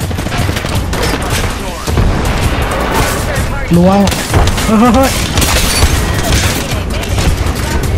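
Grenades and gunfire in the Apex Legends video game form a dense, loud barrage of booms and crackling blasts, with players talking excitedly over the chaos throughout.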